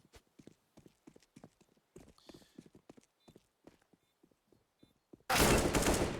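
Gunfire erupts in CS:GO on the Inferno map during an Evil Geniuses vs. Chaos esports match, a loud sustained burst arriving after quick tapping footsteps and quieter clicks.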